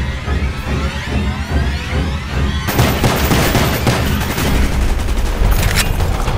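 Dense gunfire in Call of Duty: Black Ops, a loud continuous barrage of shots and booms that grows heavier and more chaotic partway through, with rapid bursts layered over low rumbling impacts.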